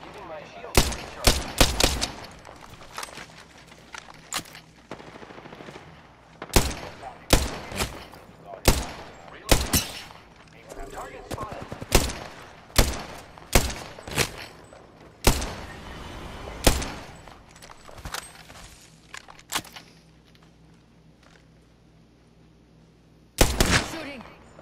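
Repeated gunfire bursts in the Apex Legends battle royale shooter, sharp cracks and rapid volleys scattered over about twenty seconds, with a quiet stretch before a final loud burst near the end.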